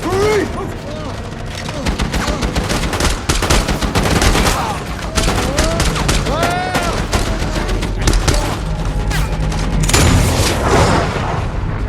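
Dense bursts of automatic gunfire and deep booming explosions in a Navy SEAL military action film battle scene, loud and continuous, with rapid volleys and heavy impacts layered over music.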